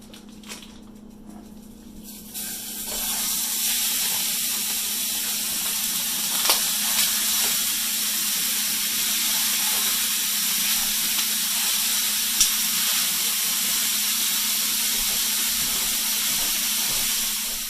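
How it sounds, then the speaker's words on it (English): Food simmering in a pan, a Skyrim-style goat shepherd's pie filling, gives off a loud, steady hiss of steam and sizzle that starts after a quieter moment and holds evenly throughout, with no talking. "since that's all nice and simmering"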